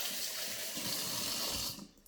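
Tap water runs hard into a sink while hands are rinsed, a loud, steady hiss that cuts off abruptly near the end.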